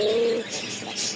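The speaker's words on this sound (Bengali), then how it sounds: "খুব সুন্দর দুই পিচ কবুতর" A pair of fancy pet pigeons for sale gives a short, close, low coo that fades into soft rustling and a faint chirp.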